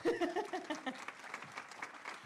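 Audience applause at a town hall candidate forum, a dense wash of clapping that swells at the start and then holds steady at a moderate level, with some talk mixed in early.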